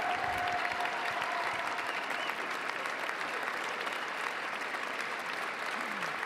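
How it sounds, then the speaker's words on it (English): Sustained crowd applause at Donald Trump's presidential inauguration, a broad, dense clapping roar from a large outdoor audience that stays steady and loud throughout with no clear voices. "Donald Trump applauds briefly before slowly stepping to the podium."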